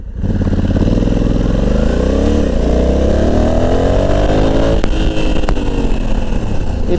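A Honda Africa Twin motorcycle with DCT gearbox accelerates hard from a standstill in normal mode, the engine roar climbing in pitch through several automatic gear changes, loud and close.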